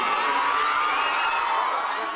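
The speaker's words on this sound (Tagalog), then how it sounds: "Malakas na hiyawan ng fans" Fans scream and cheer loudly and continuously for SB19 at the P-Popcon Manila 2023 fan event, a dense wall of high-pitched shouting from a close crowd.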